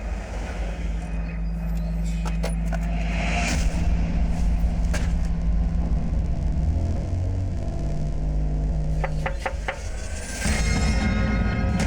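A car rolls into a residential compound, its engine a steady low rumble with a few brief clicks and knocks over it, close and continuous throughout.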